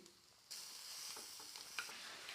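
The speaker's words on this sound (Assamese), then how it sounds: "চয়াবিনখিনি অকণমান সময় ভাজি ল'ম" Soybeans fry in a pan with a steady close sizzle that jumps louder as they hit the hot oil, followed by faint scrapes and small pops as they are stirred.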